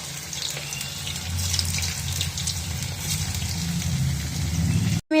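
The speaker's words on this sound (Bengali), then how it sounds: "এবার পকোড়াগুলো ভেজে নেব" Chicken pakoras deep-frying in hot oil over a lowered flame give a loud, continuous rushing hiss that holds steady throughout, then cuts off abruptly near the end.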